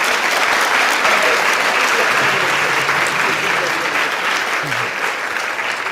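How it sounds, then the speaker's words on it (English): Sustained applause fills a large summit hall, dense even clapping from a big audience at steady loudness, with faint voices beneath. "That deserves a round of applause"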